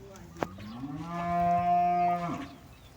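A single long, close moo from a cow, rising and holding before trailing off, with a brief click just before it.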